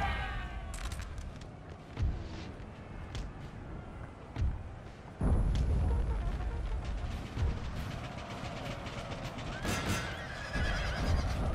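Cavalry horses charging in the Napoleonic battle game Napoleon: Total War, with whinnies, snorts and pounding hoofbeats mixed into a rumbling battle din, several sharper thuds and a louder surge midway, and a voice talking faintly at times.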